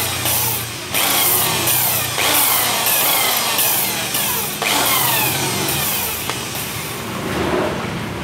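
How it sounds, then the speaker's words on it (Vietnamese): An electric drill spins continuously to lap a motorbike engine valve, whirring in repeated bursts with short pauses between, close and fairly loud, alone without talk. "các bạn có thể dùng máy khoan để sấy nè"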